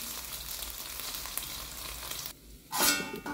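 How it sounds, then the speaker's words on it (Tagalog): Ham frying in a little cooking oil, a constant crackling sizzle that drops off briefly and then flares back louder as the pieces are stirred or turned; nobody speaks. "Lagyan natin ng konting mantika. Iprito na natin yung ating ham."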